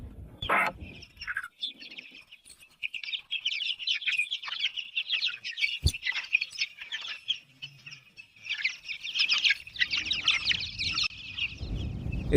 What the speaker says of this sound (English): Oh, even a broiler chick came in.